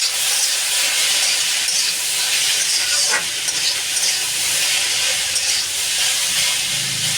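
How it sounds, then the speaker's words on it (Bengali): Potatoes fry in a little oil in an iron wok with a steady, loud hiss and sizzle that continues without a break, broken once by a short scrape of stirring. "অল্প তেলে ওই লোহার কড়াটাতে ভালো ভাজা হয়"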